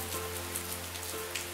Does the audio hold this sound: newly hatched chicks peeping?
no